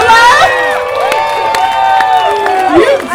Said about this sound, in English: Applause for Isabella.